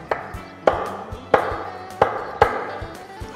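A knife chopping through cooked chicken on a cutting board, with about six firm, evenly spaced chops at a steady rhythm, heard close and fairly loud with no talking.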